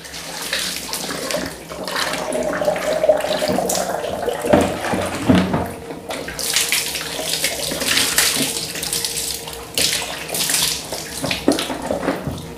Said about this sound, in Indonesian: siram ya teman-teman ya, dibersihkan.